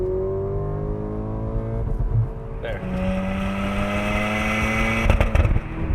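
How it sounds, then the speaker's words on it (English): A 2023 Porsche Macan T engine revs hard toward the rev limiter with no kickdown, the pitch climbing steadily before cutting and rising again, heard from inside the cabin with a brief spoken word over it. "I'm gonna try to bang it off the limiter, no kickdown"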